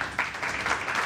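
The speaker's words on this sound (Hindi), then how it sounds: "तालियां सिर्फ आपने मेरे ससुर के नाम पे बजाई" Studio audience applause on a Pakistani morning TV show, a soft steady patter of clapping that swells slightly in pulses, fairly faint and even.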